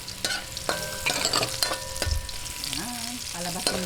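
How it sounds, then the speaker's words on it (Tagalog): Garlic and ginger sauté in a hot pan with a steady close sizzle, broken by repeated scraping and clinking of a utensil as they are stirred. "umpisahan na po natin yung paggigisa. Ayan. Sabay po natin yung ating luya sa ating bawang."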